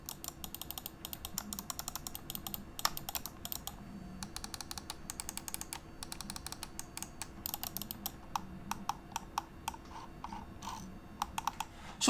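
Top buttons of a Cougar Revenger ST gaming mouse clicking, a run of sharp, quick, close plastic clicks at an uneven pace, alone and without speech.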